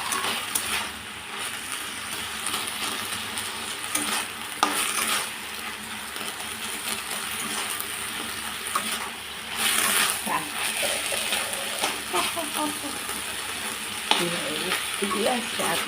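Saag greens stir-fried in a pan, a continuous close sizzle broken by scraping and clinks of a utensil against the metal, with a voice talking over it throughout.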